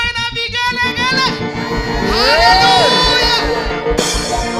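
Church congregation at a Sunday service cheering and ululating in praise, with high trilling ululations, whoops and shouts rising over a crowd, loud and close, alongside a voice calling out.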